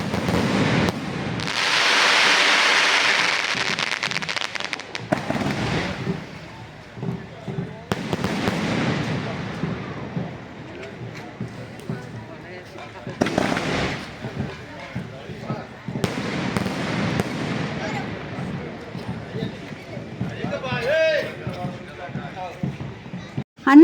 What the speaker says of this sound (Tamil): பட்டாசு பாருங்கள் வேறு லெவல் சூப்பராக இருந்தது.